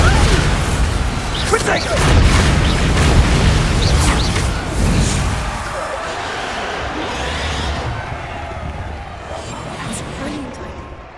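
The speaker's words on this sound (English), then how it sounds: "Bombarda!" A Bombarda blasting spell going off in Hogwarts Legacy, a heavy booming burst with rumbling debris in the first half, decaying into softer crackle and rustle, while a voice calls out a spell word early on.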